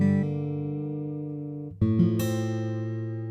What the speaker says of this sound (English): when I use the mod wheel with Ample Guitar, it just sounds like the notes are going out of tune